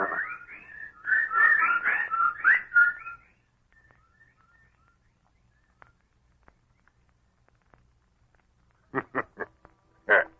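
Whistled bird calls in a radio drama: a burst of warbling chirps, then near silence with faint ticks, and a few sharp calls near the end.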